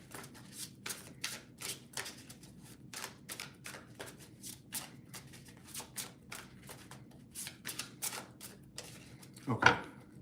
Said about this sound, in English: I'm going to shuffle a lot because I don't want to.